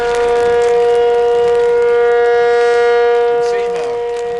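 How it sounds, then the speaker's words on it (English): A tornado warning siren wails loud and steady near Gainesville, Texas during a storm with a wall cloud, its sustained tone holding then fading slightly toward the end, with a voice speaking briefly over it. "there goes a warning siren again."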